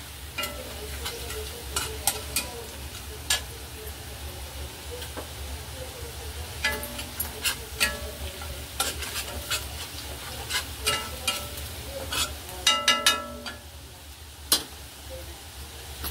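Garlic sizzling in a pan for Schezwan chutney, a steady frying hiss broken by repeated clinks and scrapes of a spoon stirring against the metal.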